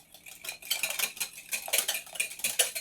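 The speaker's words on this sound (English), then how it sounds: "lifting up the spatula and the whisk and moving the egg around" Egg yolks whisked in a bowl with a whisk and spatula while making eggs Benedict: rapid, close metallic clinking and scraping in an uneven rhythm, with no talking.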